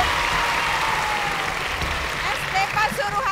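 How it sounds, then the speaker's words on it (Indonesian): Audience applause for young quiz winners at an outdoor school contest held in front of Borobudur temple, a steady broad clapping wash throughout with a few brighter voices and cheers rising near the end. "Kita kasih tepuk tangannya sekali lagi untuk para terbaik."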